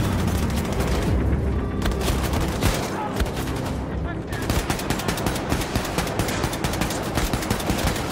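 Dense automatic gunfire and explosive booms in the shooter game Wolfenstein II: The New Colossus, rapid crackling bursts packed close together, loud and continuous, with someone talking over the action.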